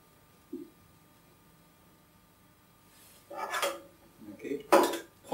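A spoon is picked up and cutlery and glasses clink together in a few bright, close bursts, with a brief low knock early and quiet pauses between.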